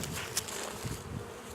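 Stinging insects buzz faintly and steadily, with a few brief louder passes as one flies nearer, alone with no talk.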